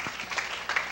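A brief, moderately loud burst of audience applause at a Medgar Evers College freshman orientation gathering, with scattered claps rising and falling over about a second.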